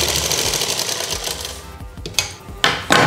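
A sewing machine runs a fitting seam down the side of a kurti, a rapid mechanical clatter that drones steadily, then breaks into short separate bursts toward the end, close and fairly loud.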